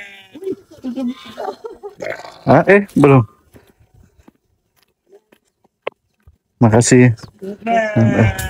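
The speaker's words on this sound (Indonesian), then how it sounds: "Itu bunyi kambing macam orang." Goats at a mountain shepherd farm bleat in a few loud, close, wavering calls between stretches of quiet, with people talking nearby.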